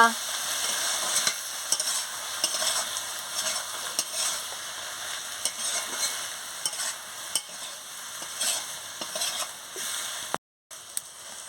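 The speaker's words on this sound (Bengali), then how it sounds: "এই যে কাঁচা লঙ্কা বাটা আর সর্ষে বাটা দিয়ে দিচ্ছি। দিয়ে ভালো করে নাড়িয়ে নিচ্ছি" Green chili paste and mustard paste sizzle in a frying pan under steady close stirring. A spatula scrapes and taps repeatedly over a continuous crackling fry.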